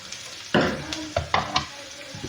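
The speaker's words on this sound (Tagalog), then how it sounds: "Ginis ako munggo." Mung beans (munggo) being sautéed in a pan, with scraping stir strokes and bursts of sizzle coming in irregular clusters, close and fairly loud, no talking.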